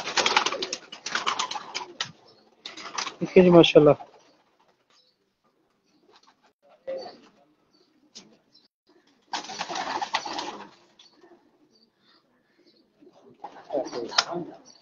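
Pigeons cooing in a loft of champion racing pigeons, several soft rhythmic coo bursts coming and going at close range between stretches of quiet, with someone briefly speaking at the end.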